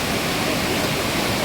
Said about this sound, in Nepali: ठन्डा फल्स भन्छ यो चाहिँ